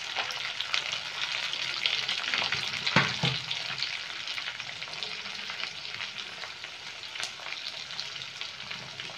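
Onion, capsicum and tomato fry in a pan with a continuous bright sizzle and hiss, punctuated by a brief stirring clatter near the start, with no voices.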